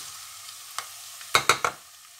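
Onions frying in about a cup of warm oil for a whole green mung bean curry, a faint background sizzle broken by several sharp metallic spoon clanks and scrapes against the pan, no talking.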